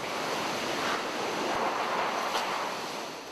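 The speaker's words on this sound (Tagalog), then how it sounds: "Sinasabayan ng malalakas na hampas ng hangin itong buhos ng ulan." Strong storm wind roars steadily during a heavy downpour, in a dense, broadband rush with no pauses, loud and close, with no voices.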